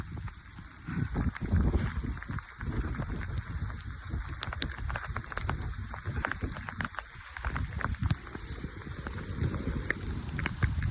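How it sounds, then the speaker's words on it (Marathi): Heavy rain falls hard and steadily on a hill trek to Bhivgad fort near Karjat, with dense drumming and occasional gusty rumble, continuous throughout without speech. "आता पाऊस जोरात चालू झालाय"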